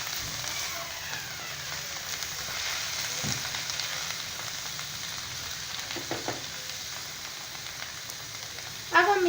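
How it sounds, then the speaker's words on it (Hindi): A spoon stirs bottle gourd halwa with milk and sugar drying in a pan, a steady low sizzle with faint scraping and a sharper clatter at the very end, no talking. "इसी तरह हम इसमें चम्मच चलाते रहेंगे ताकि ये नीचे से जले ना।"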